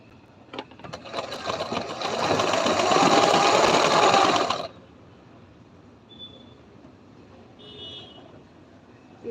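Sewing machine stitching a boat neck blouse runs in one steady loud whirring burst of about three seconds, then stops, leaving faint room noise and a couple of soft short beeps.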